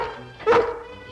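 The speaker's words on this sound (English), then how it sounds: "Hasn't anyone let that poor dog out of its crate yet?" A cartoon dog shut in a crate gives a single short yelp or whimpering bark, close and brief, over a quiet background with a faint voice.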